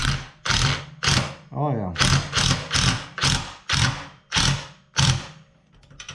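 A ratchet tightens the bolts on a tubing bender with a steady run of about ten sharp, close mechanical clicks and bursts. Someone speaks briefly between the strokes.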